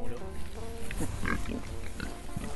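Pigs grunting outdoors in tall grass, a steady low rooting noise with several short grunts over about two and a half seconds, fairly close.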